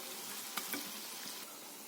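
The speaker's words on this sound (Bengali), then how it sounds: "আর এক পিঠটা উল্টে নেব" Kofta fries on its second side in hot oil, a soft, steady sizzle heard faintly with a couple of brief clicks of the turning spoon near the start.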